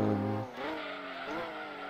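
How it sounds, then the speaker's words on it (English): Race-modified Lotus Europa in Gran Turismo 2, its engine droning loud and steady with pitch sweeping down and then climbing again through gear changes, alone without talk. "So this is the race modified Lotus Europa."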